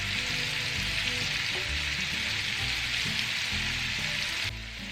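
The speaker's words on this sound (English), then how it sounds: "we're going to fry our potatoes" Potatoes seasoned with Creole seasoning, garlic powder, black pepper and paprika fry in a pan with a steady, close, dense sizzle and crackle that holds throughout and softens slightly at the very end; no talk.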